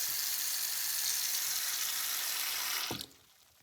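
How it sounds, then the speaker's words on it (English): Steady rushing stream of water from a faucet pouring into a sink drain that has been slow to clear, a loud continuous hiss that cuts off abruptly near the end, leaving near silence. "Let's turn the water on and see what happens."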